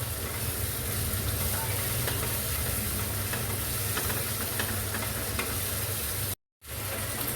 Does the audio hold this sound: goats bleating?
no